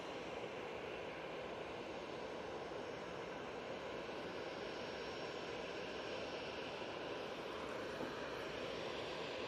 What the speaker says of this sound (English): A321neo there for British Airways.